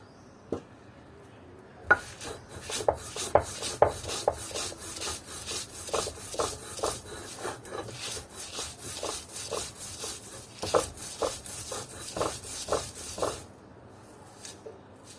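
Chillies and garlic being ground into a paste on a grinding stone, rhythmic close rubbing and rasping strokes of stone on stone that repeat steadily and then stop near the end.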